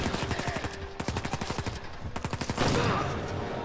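Rapid automatic gunfire in Uncharted 4, long bursts of closely spaced loud shots with short pauses between them, ending in a louder blast and some noise.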